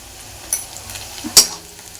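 Onion and green chili frying in oil in a pan for kande pohe, with turmeric stirred in: a faint, steady sizzle with a couple of sharp utensil clinks against the pan.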